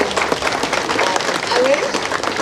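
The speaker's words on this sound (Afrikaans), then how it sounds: "Kom ons gee vir hulle groot hande klap." Audience at a school event for grade 1 to 7 children claps in a dense, steady burst of applause lasting a couple of seconds, fairly loud and close, with crowd murmur mixed in.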